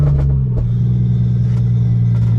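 A Scion FR-S with a swapped 1JZ VVTi engine pulling away from a stop with an aggressive clutch, giving a loud, deep rumbling idle and low engine drone with a few clattering knocks, close up and with no talking.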